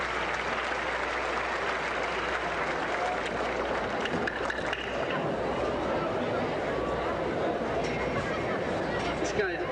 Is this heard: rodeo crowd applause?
yes